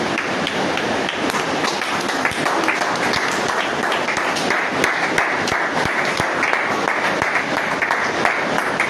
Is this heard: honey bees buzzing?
no